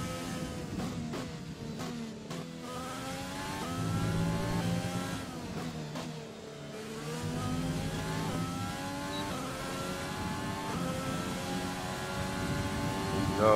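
An F1 2020 race car engine whines and revs through gear changes, pitch climbing and dropping in sweeping upshifts and downshifts, loud and continuous with a brief dip midway.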